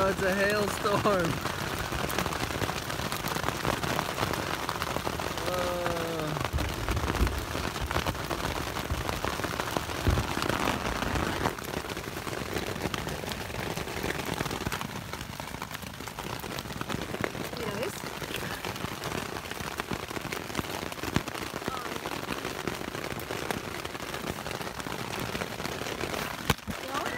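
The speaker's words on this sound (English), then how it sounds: "It's a hailstorm." Steady hard drumming of hail on a roof at Caprock Canyons State Park, dense and continuous, with voices talking intermittently underneath.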